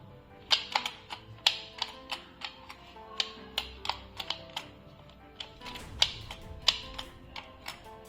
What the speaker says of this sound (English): Let's take a listen to the switches. This Zenith keyboard comes with the mechanical switches.